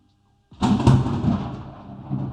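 Thunder from a lightning storm breaks after near silence, a sudden loud crack followed by a long, deep rolling rumble that slowly fades.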